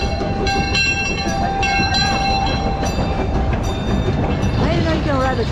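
An amusement park train at Cedar Point in Sandusky, Ohio rolls past loudly. Rumbling wheels run steadily under repeated tonal whistle or horn blasts, with a bell-like ringing and bright squeals near the end.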